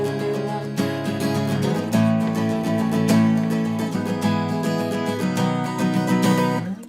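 An acoustic guitar strums the verse chords of a folk song in a steady, even rhythm, close and clear, with no voice over the playing.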